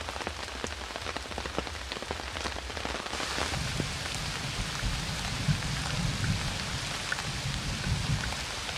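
Heavy rain pours steadily onto surfaces beside a muddy riverbank and anchored pontoon, a dense hiss that thickens partway through, with no talking.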